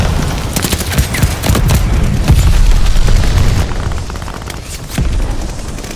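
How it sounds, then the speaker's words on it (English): Explosions and gunfire from a Call of Duty: Vanguard multiplayer match, with a slide bomb going off amid dense, loud booms and rapid shots that pile up for several seconds before easing slightly, then flaring again near the end. "Friendly, sending a slide bomb!"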